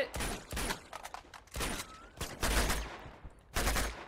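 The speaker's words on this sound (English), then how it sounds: "I literally put like 4 3-round bursts into this man." Bursts of three-round gunfire in Uncharted 2: Among Thieves crack out in several sharp clusters, loud and close, separated by brief quieter gaps with game effects between them.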